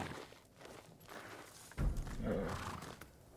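Horse in the samurai video game Ghost of Tsushima, with a burst of hooves and snorting breath near the middle, loud and close over low game ambience.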